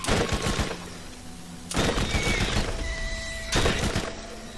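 Shotgun blasts in the video game Borderlands: three loud, sharp booms with ringing tails, spaced about two seconds apart amid continuous game noise, close and dominant.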